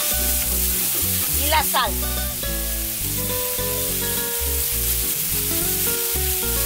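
A Spanish-style sofrito (refrito) sizzles and crackles in a pan as a voice briefly speaks, the frying steady and loud with stirring noises throughout.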